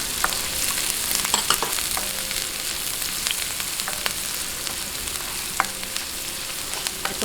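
Garlic, onion and pork sizzle and fry steadily in a hot pan, a continuous close crackle with occasional sharper pops and stirring scrapes, no talking.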